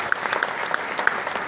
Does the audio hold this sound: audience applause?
yes